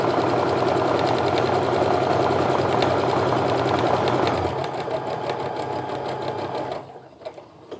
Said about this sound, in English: I'm just going to sew to the top and the bottom